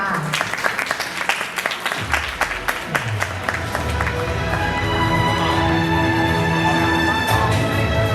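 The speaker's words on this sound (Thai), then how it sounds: "ขอเสียงปรบมือหน่อยค่ะ" A crowd at a Miss Universe Thailand 2025 orientation event claps briskly at first, then the clapping gives way to music and cheering with a voice over it.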